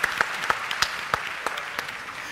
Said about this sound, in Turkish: Kendisini de bir alkışlayalım lütfen.